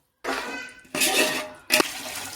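Water pours in three separate bursts into a pot of Dindigul mutton sukka biryani made with seeraga samba rice, a close, splashing rush each time with short pauses between.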